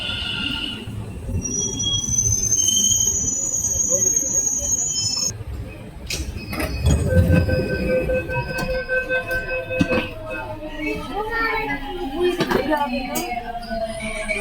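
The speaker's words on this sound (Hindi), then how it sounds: "अब मैं फाइनली मेट्रो पकड़ूंगा" A Delhi metro train rumbles and screeches along the rails, its wheels squealing in long high whines, with a crowd murmuring in the background.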